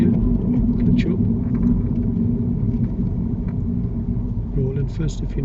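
Car engine rumble inside a vehicle during a driving lesson, low and steady from inside the cabin throughout, with a voice speaking over it.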